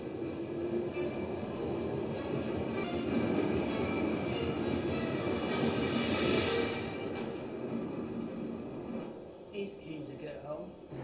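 A train in the film Skyfall (2012) rumbles past with a heavy, continuous roar that swells and then fades, with a dramatic movie-style mix.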